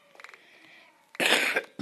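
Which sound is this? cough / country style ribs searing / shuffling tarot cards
cough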